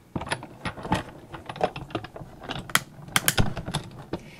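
Sizzix die-cutting machine cranking thin wafer stamp dies sandwiched between cutting mats, giving a close run of ratcheting mechanical clicks and gear rattles with a few sharper snaps, no voices.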